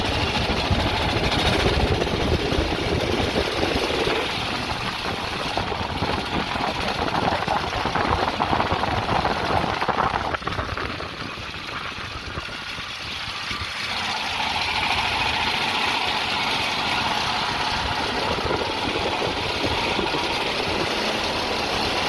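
A homemade dune buggy powered by a Honda GX390 generator engine drives along, its loud, rough engine drone running continuously close by, easing briefly midway before rising again.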